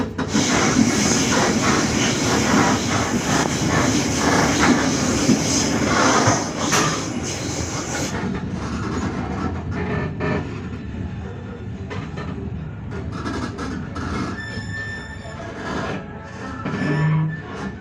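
Matarmaja economy-class passenger train running in Indramayu, a loud steady rumble of wheels and carriage noise throughout, easing slightly after the first half.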